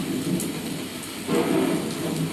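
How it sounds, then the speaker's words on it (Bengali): Heavy rain pours steadily while thunder rumbles and cracks, swelling louder partway through. "মেঘের গর্জন অঝোর ধারায় বৃষ্টি হচ্ছে"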